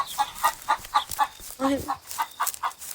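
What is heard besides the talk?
chicken clucking in a horror video game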